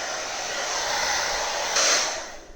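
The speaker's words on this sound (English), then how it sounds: "We're going to take our blow dryer" A blow dryer runs steadily on a fresh coat of paint on a paintbrush Santa ornament, a continuous close airy whoosh that swells briefly louder near the end, with no talking.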